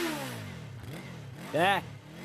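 Motorbike engine running and then revving, heard as a falling engine whine followed by a short, sharp rising rev near the end, with a voice shouting nearby.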